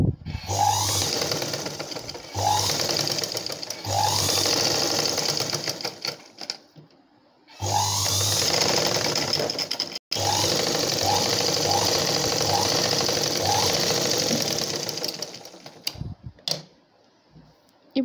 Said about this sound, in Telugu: ఇప్పుడు ఈ విధంగా క్రాస్గా కట్ చేసుకున్న దాన్ని మనం ఒక సైడ్ ఈ విధంగా చిన్నగా అంచు కుట్టుకోవాలి.